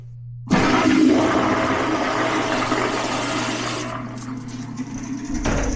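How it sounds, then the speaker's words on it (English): A Sloan Flushmate pressure-assist toilet flushes after a cartridge replacement: a sudden loud forceful whoosh of pressurized water that roars steadily for about five seconds, then drops off with a refill hiss. "Let's give it a flush."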